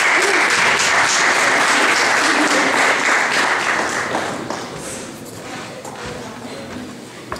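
Audience applause fills a student school ball, loud, dense and sustained at first, then gradually thinning and fading toward the end with a few scattered claps.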